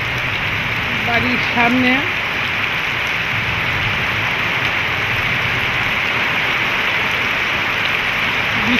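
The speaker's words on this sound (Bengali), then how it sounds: "বৃষ্টি ভিজা বিকালে" Afternoon rain pours steadily in front of a house, a dense, even hiss of drops on surfaces with water pooling, while a person speaks briefly early on.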